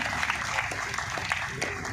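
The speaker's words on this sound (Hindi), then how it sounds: "पूरा एक बार जोरदार तालियां।" Audience applause at a spoken address in Hindi, a dense, steady patter of many hands clapping together at a constant level for the whole span, with no voices rising above it.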